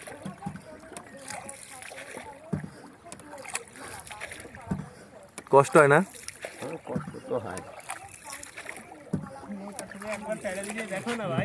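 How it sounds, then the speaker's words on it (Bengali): A wooden rowboat is paddled along a village river at Khuria, Paikgachha, its oars making soft, intermittent splashes and water sounds beneath nearly continuous conversation between people aboard. "নৌকা চালানো খুব কষ্ট"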